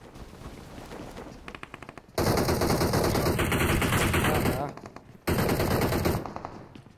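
Heavy automatic gunfire rattles through a solo gunfight in the battle-royale game BGMI, two loud sustained bursts of rapid shots separated by a short lull, with quieter shots before them.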